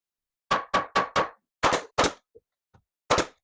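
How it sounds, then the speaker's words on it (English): Sharp hammer blows driving cedar shingles onto a wooden playhouse roof: a quick run of four knocks, then two more, a couple of faint taps and a final strike, close and loud with no talking. "It'll be a little bit of hammering to get everything in place where I want it to sit."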